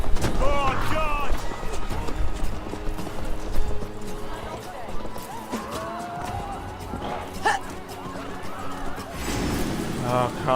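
Hooves clip-clop in a steady gallop as a horse runs in the video game Assassin's Creed Valhalla, set under game music and combat effects, with someone talking over it.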